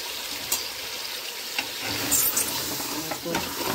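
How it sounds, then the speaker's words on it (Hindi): Mutton pieces fry in butter while being stirred, giving a steady close sizzle with scattered scraping strokes and small clatters of the spoon, no talking. "तो हम बटर में इसको अच्छी तरह भून लेंगे जब तक इसका थोड़ा कलर चेंज हो जाए।"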